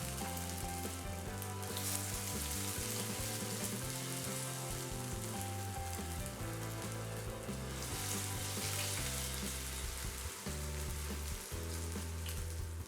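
Steady, dense sizzling of potato pancakes (deruny) frying in hot oil in a pan, continuous and close, with no voices.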